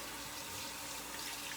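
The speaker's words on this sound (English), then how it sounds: "Okay, wash my hands again." Water from a running kitchen tap splashes steadily over hands being washed at a sink, a close, even rushing hiss with no pauses.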